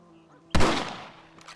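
A single sharp rifle shot from the Red Dead Redemption video game cracks out loud and close, then trails off in a short decaying echo.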